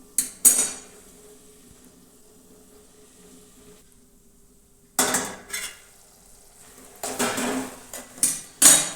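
Metal utensil scraping and clinking in a pot of cooking onions and tomatoes in several bursts, with quiet gaps between and a faint sizzle underneath.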